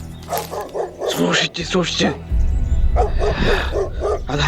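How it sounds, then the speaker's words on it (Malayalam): Dogs bark in sharp bursts, mixed with several close voices talking over them outdoors, the barking fairly loud and irregular. "പട്ടികൾ കുരയ്ക്കുന്നുണ്ട് കേട്ടോ."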